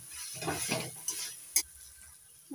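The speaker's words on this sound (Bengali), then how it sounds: "এবার দিয়ে দিচ্ছি চিকেন কিমা। ভালো করে কষিয়ে নেব" Chicken keema being stir-fried with spice masala for a pea and chicken keema curry, with a soft sizzle and scraping stirs against the pan, plus one sharp clink of a utensil.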